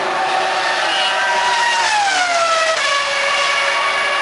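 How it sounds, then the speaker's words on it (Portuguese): A Formula 1 car at the 2003 Italian Grand Prix accelerates hard, its loud high-pitched engine climbing through gears with quick shift drops, close and dominant over a constant roar of background noise. "Então o Montoya vai acelerando e vai tentar fazer uma volta rápida"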